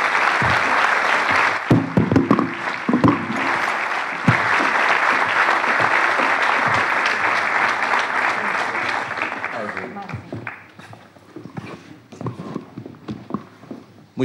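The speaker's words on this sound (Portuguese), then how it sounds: "Inês Menezes, uma salva de palmas, por favor." A crowd at a book event applauds to welcome guest Inês Menezes, a loud, full round of clapping that fades and breaks into scattered claps toward the end.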